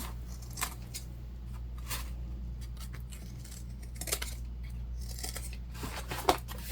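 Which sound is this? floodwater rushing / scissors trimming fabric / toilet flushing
scissors trimming fabric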